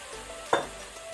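Marinated mutton chops frying in a pressure cooker over a gas flame: a steady close sizzle with one brief louder clatter or scrape near the middle, no voices.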